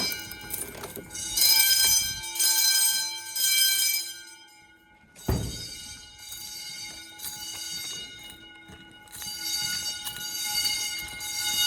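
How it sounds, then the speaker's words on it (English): School fire alarm bells ring loud and close in a middle school fire drill, with bursts stopping and restarting and one sharp clang midway. "See if the bell works in here."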